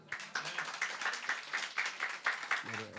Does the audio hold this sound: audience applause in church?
yes